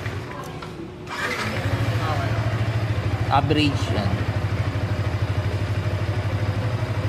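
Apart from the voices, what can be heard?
Yamaha R15M motorcycle engine starting and running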